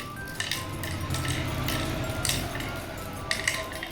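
Cowrie shells clink and rattle as they drop into the pits of a wooden pallanguzhi-style board game, a series of light clattering handfuls with a quiet voice beneath.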